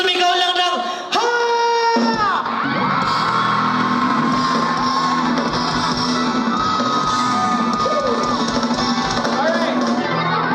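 A large concert crowd in Cauayan shouts "ha" together in a loud, sustained roar after a brief opening call.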